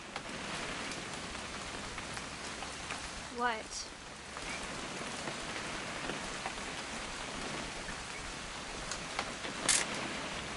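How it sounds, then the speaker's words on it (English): Steady rain falls in the video game What Remains of Edith Finch, a constant pattering wash throughout, with a brief spoken word and a few faint incidental sounds over it. "It's gonna rain the whole weekend, isn't it?"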